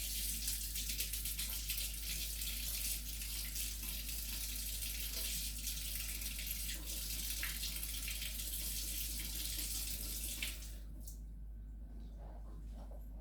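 Warm water pours steadily from an on-demand hot water tap in a kitchen, a continuous gush lasting about ten seconds before it cuts off, leaving quiet room tone.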